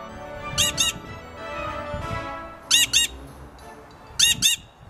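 A bird gives loud, harsh squawks in three double bursts, each pair spaced a couple of seconds apart, with soft background noise between.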